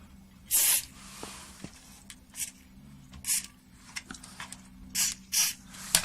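Short bursts of aerosol lubricant sprayed onto the switch contacts of a Roland R8 drum machine under repair, several quick hisses spaced across a quiet room, close and moderately loud.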